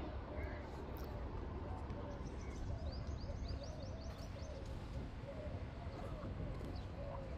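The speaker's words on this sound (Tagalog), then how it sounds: "Daming kalapati din no." Flock of pigeons cooing softly in a busy outdoor city spot near the Burj Khalifa, with a low steady background rumble and faint intermittent chirps throughout.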